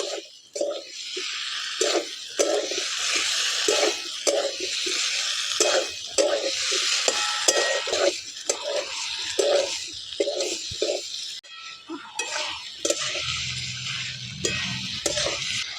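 Fried potatoes and young jackfruit are sautéed with spices in a pan, a spoon striking and scraping in a steady rhythmic beat over a continuous sizzle, with a brief pause near the end.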